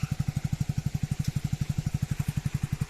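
A motorcycle engine idles nearby with a steady, rapid chugging pulse, loud and even, as an aunt prepares to leave by bike; no talk over it.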